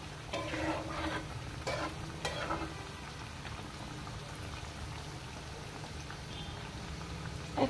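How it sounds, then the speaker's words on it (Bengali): Lentil fritters (dal bora) frying in hot oil over a medium flame, a soft steady bubbling sizzle, louder and busier at first with a few brief stirring bursts before settling into a quieter continuous crackle. "এখন আমি এগুলো মিডিয়াম আঁচে ভাজতে থাকবো, যে পর্যন্ত ব্রাউন কালার না আসছে আমি ভাজতে থাকবো এগুলো"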